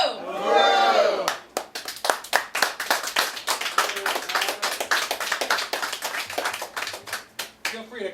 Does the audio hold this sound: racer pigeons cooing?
no